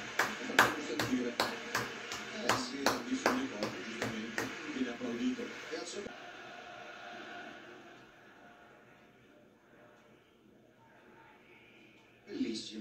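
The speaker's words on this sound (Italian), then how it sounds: "Applausi per Tonali." Stadium crowd at a Milan versus Newcastle match applauding Tonali, a steady rhythmic clapping over a broad crowd roar for about six seconds before fading to a low murmur, then swelling again briefly at the end.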